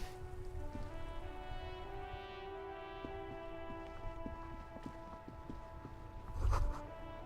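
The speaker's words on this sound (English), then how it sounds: "All around you, rain falls on the great city of Revachol." Soft, steady rainfall patters beneath a low sustained musical drone in the video game Disco Elysium, with a brief dull thump near the end.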